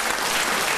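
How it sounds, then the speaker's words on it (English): Studio audience applause on a television panel comedy show, a dense, steady wash of many hands clapping at close range for the whole moment, with no talk over it. "People are clapping."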